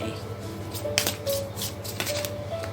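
Tarot cards being shuffled by hand, a series of soft riffling and slapping bursts at close range with brief quiet gaps between them.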